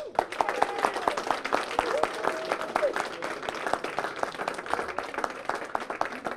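Audience applause for contestants at a Dutch cooking competition prize announcement, steady clapping across the whole stretch with voices and tonal sounds mixed in underneath.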